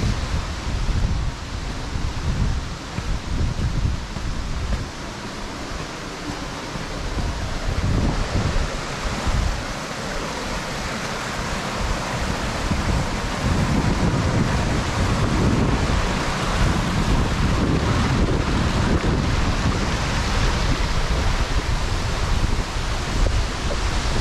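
Water falling at the bottom of Wentworth Falls, a broad continuous roar of cascading water and spray, loud and close, with gusty wind-like surges swelling and easing over roughly twenty-four seconds.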